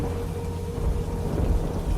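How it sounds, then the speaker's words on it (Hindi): Heavy rain in a thunderstorm with strong wind, a dense continuous roar of downpour with low rumbling underneath, loud and unbroken. "बड़ी बारिश, बिजली कड़क रही थी, तेज हवाएं चल रही थी"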